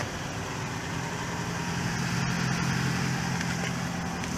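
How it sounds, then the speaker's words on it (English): A Toyota RAV4 Hybrid's engine runs at a steady idle, with a low, continuous rumble holding even throughout and no talking over it. "You know what, the car just started."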